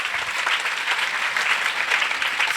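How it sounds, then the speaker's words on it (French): A church congregation claps together in a dense, lively burst of applause that stays steady for a couple of seconds. "We have to clap for you."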